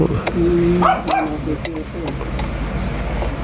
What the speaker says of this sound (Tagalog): Aso nyo ho ba yan?